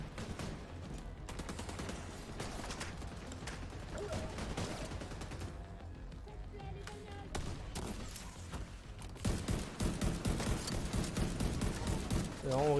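Gunfire in The Division 2, bursts of shots crackling throughout alongside game music and effects, growing louder and denser toward the end, with someone talking over it.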